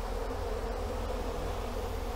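A dense, steady buzz of many honeybees fills the air, loud and close, with no voices.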